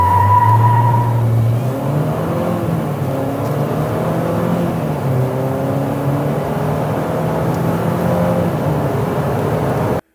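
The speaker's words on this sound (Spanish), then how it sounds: "Y ahora vamos a manejar en las curvas." A GWM Poer pickup truck driving through curves on a wet track, its engine note rising and falling steadily with tyre and road noise, heard from close by and without any talk.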